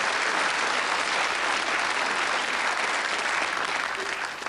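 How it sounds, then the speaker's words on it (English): Studio audience of a television quiz show applauding, a dense, sustained wash of clapping from many hands that holds steady for several seconds and eases slightly at the end. "Give them a round of applause."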